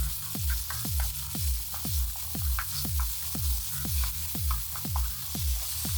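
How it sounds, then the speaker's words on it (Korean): Vegetables for a stir-fried small octopus dish are stir-fried in seasoned oil, a low, steady sizzle broken by a regular series of quick scraping strokes, roughly two per second. "먼저 준비한 채소들을 한 번에 넣고 다 볶아줍니다"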